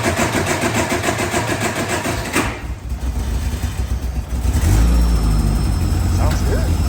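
A 1973 Lotus Europa Special engine cranks with a rhythmic starter chug, catches, then revs up loud and close. It settles into a rough cold idle with voices talking over it.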